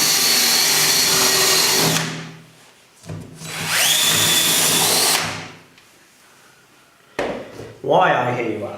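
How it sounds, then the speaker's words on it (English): A power drill whirs in two long sustained bursts and one short final one while working the throw bar of a model railway electrofrog point. It sounds loud and close, with quiet gaps between bursts. "that action there that I've done with the drill"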